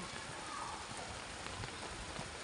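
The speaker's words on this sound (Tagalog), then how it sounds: "Nag-uulan na naman tayo dito." Steady rain falls throughout, a dense, even hiss with scattered patter and no voices.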